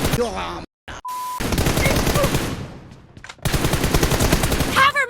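Shooter video game gunfire rattles in rapid automatic bursts, broken by a short silent gap and a brief beep, then resumes loudly before a faint voice-like sound at the end.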